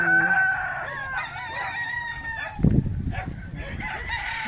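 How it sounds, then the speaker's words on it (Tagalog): Chickens cluck and a rooster crows nearby on a provincial farm, with overlapping bird calls and a loud burst of fowl noise partway through. "may mga manok lahat yan."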